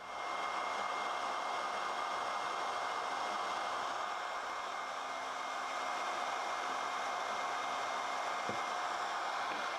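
A heat gun blows steadily on a normal decal on a TOMY Daring Driver mini-arcade toy, a constant close airy roar that runs unbroken with no talk.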